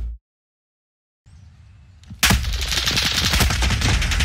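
Rapid gunfire from an NZ gun in a shooter video game bursts in after a brief silence and a low rumble, continuing as a dense, loud volley to the end.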